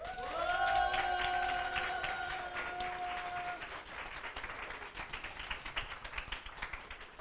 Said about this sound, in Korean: 이동수 목사님을 때 환영의 박수로 맞이하도록 하겠습니다.